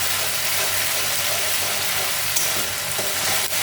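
Egg curry with spices sizzles steadily in hot oil in a pan, a loud, even frying hiss with a few faint stirring clicks.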